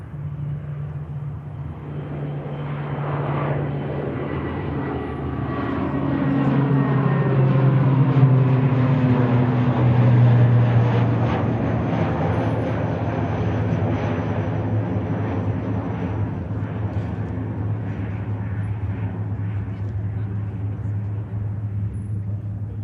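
A heavy jet aircraft departs Manchester Airport, a deep droning engine rumble with strong low tones that swells to a loud peak and then slowly fades as it moves away.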